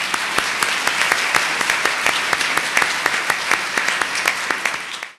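A church congregation applauds at a Pentecost Sunday service in Lahore, with loud, steady clapping from many hands that fades out at the end.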